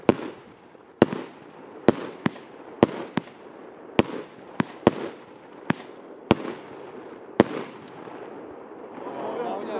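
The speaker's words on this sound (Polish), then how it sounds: "Piękny efekt niebieskiej miny, wystrzały bardzo piękne." Consumer firework cake with a hard rock theme firing about a dozen sharp, loud shots and bursts at irregular intervals, including a mine effect, with crowd noise and voices in between.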